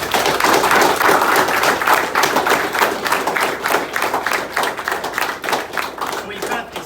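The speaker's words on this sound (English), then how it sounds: "So can everybody give him a round of applause," Audience applause at a commemorative visit by a US 25th Infantry Division delegation in Korea, loud, dense rhythmic clapping from a nearby crowd that gradually thins over several seconds.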